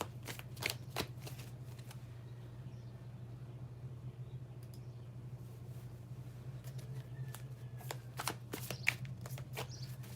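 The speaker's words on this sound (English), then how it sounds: "Shuffling and moving on to the next question." Tarot cards are shuffled quietly in a series of soft, irregular riffles and taps over a steady low hum, with no talking.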